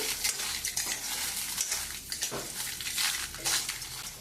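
Grated coconut is roasted in a pan with soft, rhythmic stirring scrapes and gentle crackling, heard fairly quietly, with no voices.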